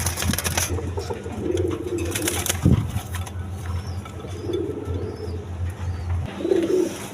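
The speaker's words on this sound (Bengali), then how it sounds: "দেখেন এই কবুতরগুলো এক প্রবাসী ভাই নিছে ডিম সহ।" Domestic pigeons kept in pairs with eggs at a market coo in low, soft repeated phrases against a busy background, with brief rustles and a sharp knock partway through.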